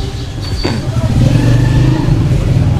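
A motorbike engine idles and rumbles close by as the bike is being parked, a steady low drone that stays loud throughout.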